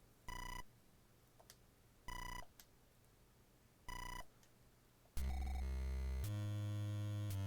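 Electronic ringtone from a phone in the Mother video game, set in 1980: three short bright repeated bursts of beeping ring, evenly spaced, followed by a louder sustained synth music sting, with no one talking.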